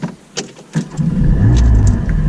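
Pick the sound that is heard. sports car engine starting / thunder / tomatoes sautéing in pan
sports car engine starting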